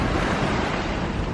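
Wind and waves rush in a continuous, loud wash while sailing across the Caicos banks. No voices can be heard.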